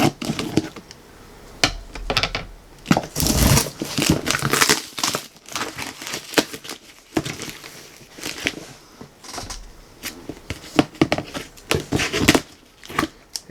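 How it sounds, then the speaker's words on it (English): Plastic packaging crinkles and crackles while scissors snip it open, with bursts of rustling and cutting at irregular intervals, close and fairly loud throughout. "let's get the old scissors out here."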